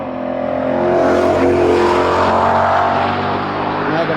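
A Porsche GT3 RS drives on a race track at Summit Point, its engine a loud, close, sustained roar that swells briefly and then holds steady with no talking.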